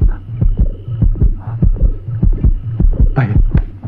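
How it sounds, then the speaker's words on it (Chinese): Heartbeat sound effect in a horror comedy, a loud close thudding lub-dub pulse repeating rapidly and evenly over a low droning hum. "系，不过心跳得咁紧要噶"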